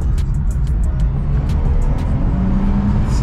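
An Infiniti Q60 Red Sport pulling hard, a loud continuous engine roar heard from inside the car with a rising drone toward the end.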